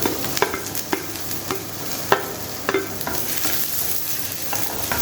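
Garlic, large onion and green chilli sautéing in butter in a pan, a steady soft sizzle broken by repeated spatula scrapes and knocks at irregular intervals, close and moderately loud with no voices.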